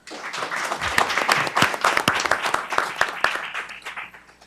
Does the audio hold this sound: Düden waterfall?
no